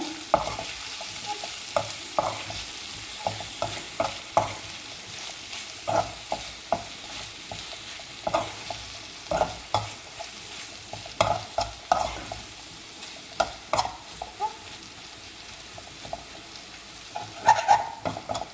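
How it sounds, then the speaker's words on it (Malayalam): A prawn stir-fry with pepper powder is stirred in a pan, producing repeated scraping strokes in an uneven rhythm over a steady background sizzle, with no voices. "ഇനി അത് നന്നായിട്ടൊന്ന് മിക്സാക്കി കൊടുക്കുക."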